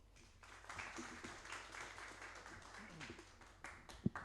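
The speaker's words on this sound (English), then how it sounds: "A round of applause, please." Audience at a launch event giving a round of applause, heard faint and distant as a soft, diffuse patter of many hands that swells slightly and then tapers, with one sharper knock near the end.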